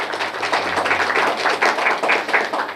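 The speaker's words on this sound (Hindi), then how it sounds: "सब लोग साथ मिल करके हमारे मुजाहिद भाई के लिए ताली बजाएं" Audience applauding for Mujahed Mohiuddin Khudri, a steady crackle of many hands clapping together, dense and fairly loud throughout without any talk.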